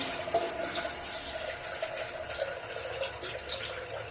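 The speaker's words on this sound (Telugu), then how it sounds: "పెసరపప్పులో వాటర్ వేసుకున్నా." Water poured into washed moong dal in a pot, a close, steady splashing and gurgling stream with faint drips, lasting the whole few seconds.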